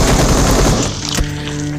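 Rapid gunfire bursts from a shooting video game, loud and dense, ending in a sharp shot before a steadier tonal hum; no talking.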